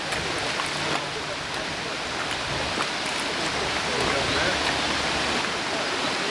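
A waterfall in the Brendon Hills along the West Somerset Mineral Railway, a continuous rushing hiss of falling water heard steadily from some distance, with a few faint clicks over it.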